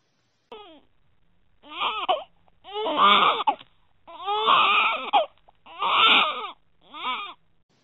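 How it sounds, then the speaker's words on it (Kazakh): A baby cries in several wailing bursts with brief breaks between them, close and clear against a silent background. "Бала қалай жылайды?"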